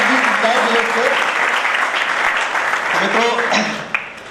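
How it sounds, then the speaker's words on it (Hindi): An audience at a poetry recital claps loudly and steadily, a dense wash of applause running the whole time, while a voice speaks over it near the end. "जोरदार ताली दो दोस्तों।"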